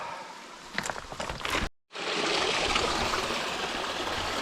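Steady broadband rush of a flowing creek, fairly close, with a few rustling footsteps early on and a brief dropout before the water resumes.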